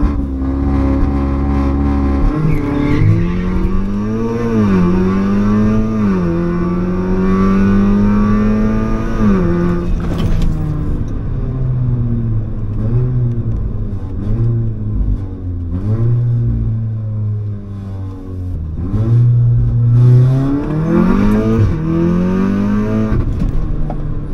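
Engines roar continuously in a drag race in the Midnight Club video game, loud revving with rising pitch sweeps as gears shift, a steady dense mechanical drone throughout with no speech.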